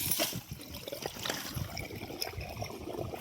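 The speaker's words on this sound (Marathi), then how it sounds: "उसावर पाणी पडते आता" Irrigation water from a turned valve runs onto a sugarcane field in a steady, faint trickling flow, quiet and continuous, with no voices.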